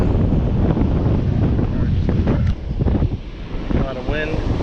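Strong wind roars across the microphone on a fishing boat out bass fishing in Western Branch. The buffeting is loud and continuous, eases briefly midway, and has a faint voice-like trace near the end.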